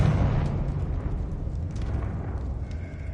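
A Confringo explosive spell goes off in the video game Hogwarts Legacy, a loud, close, low rumbling blast that rolls on and slowly fades over about three seconds.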